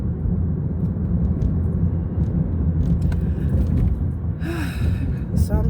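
A car being driven, heard from inside as a steady, continuous low road and engine rumble that holds level throughout, with a few faint higher rattles and a brief squeak near the end.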